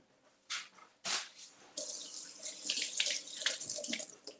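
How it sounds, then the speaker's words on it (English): Kitchen faucet water running over a small bunch of fresh cilantro in a sink, starting with two short splashes and then a steady, close, hissing rinse, with no talking. "So I've got some fresh cilantro. So let's just twist off a little bit and rinse it off."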